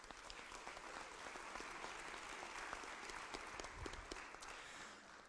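A hall audience at a school district candidate forum gives sustained, steady applause, a dense wash of many hands clapping at once without a break.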